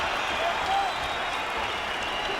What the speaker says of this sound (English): it is met by a huge cheer from the London crowd